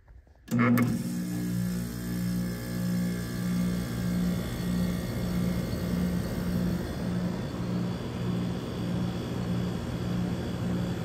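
A vintage Shipmaster programmable room air conditioner kicks on with a sudden start, then settles into a steady droning motor hum with a fan rush, continuous and fairly loud nearby.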